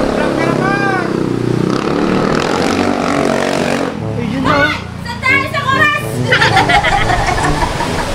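A motorcycle from a riders' club passes on a road on Caramoan Island, its engine rising and fading beneath ongoing chatter and laughter from people nearby.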